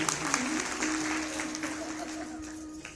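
Applause from the gathering at a Shrimad Bhagavat Katha held at a Parshuram temple in Panipat, steady crowd clapping that carries evenly throughout with a sustained tonal hum underneath.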